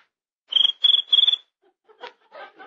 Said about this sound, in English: That's just a little cricket.